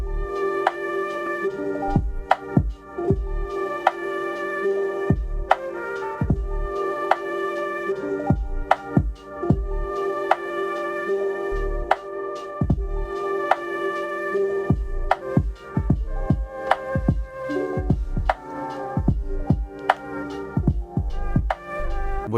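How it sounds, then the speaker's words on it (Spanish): Synth bass notes tapped on pads in a music-making app, set to a natural minor scale, form a steady rhythmic sequence of punchy plucked tones, clear and upfront with no talking. "Y el bajo suena así."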